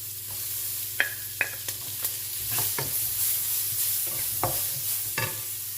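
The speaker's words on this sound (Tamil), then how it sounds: "இப்போ கருவேப்பிலையும் பூண்டும் ஆட் பண்ணிக்கலாம். அதையும் கொஞ்சம் வணக்கிடுவோம்." Curry leaves and garlic sauté in a pan for kathirikai murungakkai sambar, a steady close sizzle broken by scattered scrapes and taps of a stirring spoon, with no one speaking.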